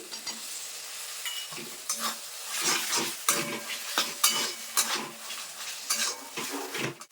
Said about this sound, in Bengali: হলুদ গুঁড়ো দিয়ে দেবো পরিমাণ মতো লবণ দিয়ে মশলাটা ভালো করে কষিয়ে নেব